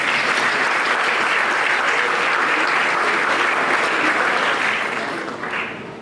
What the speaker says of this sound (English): Give him a clap for that.